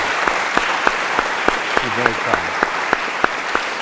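An audience claps for someone at an Oxford Writers' House conversation event, with a steady patter of hands while he speaks over it.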